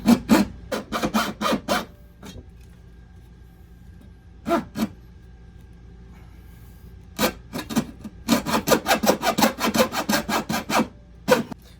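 Hacksaw blade cutting during an RV kitchen faucet swap: quick rasping strokes in uneven clusters, short bursts of rapid back-and-forth sawing separated by pauses, close and fairly loud with no talking.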